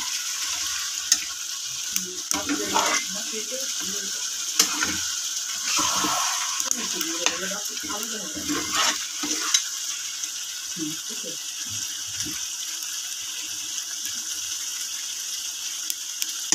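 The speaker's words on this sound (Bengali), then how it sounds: "এই যে মাংস এখনো কষানো হইতেছে।" Beef curry meat being stirred and sautéed in a pan on a lit stove, giving intermittent scraping, clinking and sizzling bursts through the first ten seconds, then quieter occasional stirring.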